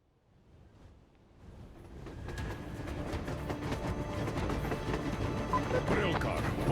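A railcar in the Metro Exodus video game rolls along rails, fading in from near silence into a steady rumbling clatter with rhythmic clicks, growing louder and holding; voices speak over it.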